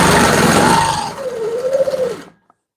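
A quilting machine stitches in the ditch on a wedding ring quilt, giving a close, steady mechanical hum and whine for about two seconds before it stops.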